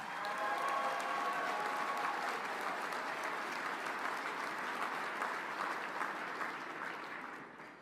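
A roomful of guests at a football awards dinner applauds the 2024 MEAC Players of the Year, a broad, steady wash of clapping that slowly tapers toward the end.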